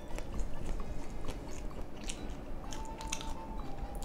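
Crispy cheese-filled jumbo corn dog being bitten and chewed up close, with dense crunchy crackles and wet mastication continuing steadily throughout, no talking.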